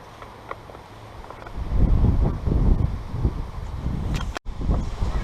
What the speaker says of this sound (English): the wind is quite windy